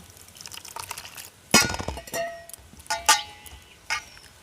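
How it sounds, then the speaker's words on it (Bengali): Grated raw potatoes are rinsed with a little water in a bowl, giving sharp clinks and knocks against the bowl with splashy swishes. The bursts come irregularly, close up, with no talking. "এবার অল্প একটু জল দিয়ে এই আলুগুলোটাকে আমি ধুয়ে নেব।"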